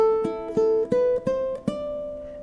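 Ukulele playing the alternate ending of Für Elise, a short run of plucked notes stepping along quickly before a final note rings out and fades.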